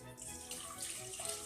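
Water runs steadily into a saucepan in a home kitchen as an onion infusion is being made. The rushing splash is close and continuous, with no talking.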